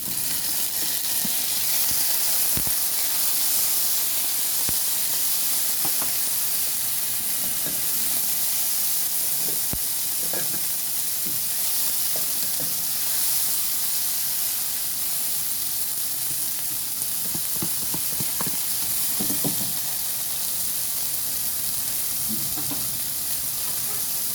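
Tomatoes sizzling in a hot pan for a vegetable dish, a steady, close hiss with faint crackles and occasional stirring clicks throughout, no talking.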